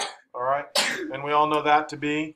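A single sharp sneeze bursts out in a pre-algebra classroom, wedged between a teacher's spoken questions.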